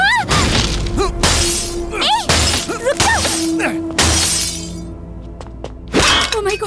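Car window glass smashes in a comic action fight scene, with several loud crashing, shattering bursts mixed with raised voices and scene noise.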